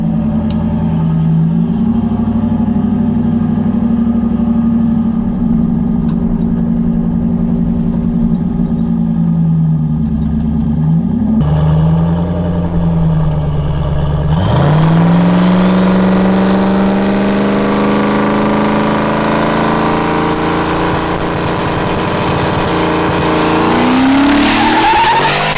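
A junkyard turbo LS-swapped Foxbody car revs hard and loud, its engine note rising and falling, then climbing steadily in a long acceleration pull with a rising whine over it.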